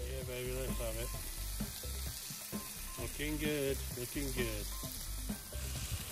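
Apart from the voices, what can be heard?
steak sizzling on barbecue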